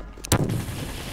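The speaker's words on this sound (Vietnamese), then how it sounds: "Bây giờ trong tay mình hiện tại đó chính là một cái cây súng lựu đạn." A grenade launcher fires once in a video game, a single sharp, loud blast followed by a short rumbling tail.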